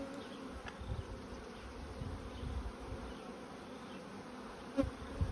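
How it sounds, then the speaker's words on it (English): Honeybees buzz steadily in a queenless nucleus hive packed with bees, a soft continuous drone heard up close and fairly faint, with a few slightly louder moments and no voices. "queenless nukes with a lot of bees"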